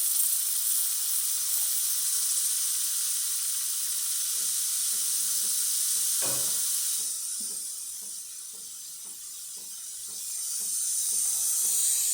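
The steam wand of a Breville Infuser espresso machine gives a steady, loud, close hiss that runs the whole time, with a brief dip in strength toward the end before it swells back up.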